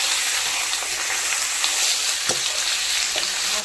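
Chicken pieces dropped into hot oil in a pan with green chillies and browned onions sizzle and crackle loudly and steadily, with faint stirring clicks and no talking.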